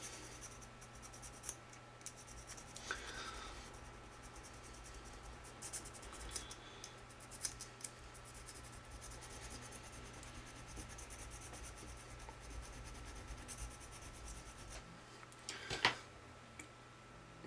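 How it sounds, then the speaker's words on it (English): A hand file works a lacquered metal part, giving a steady, faint rasping scrape that continues throughout with a couple of sharper clicks, close and quiet, no talk. "So get the file in now."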